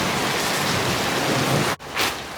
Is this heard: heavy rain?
yes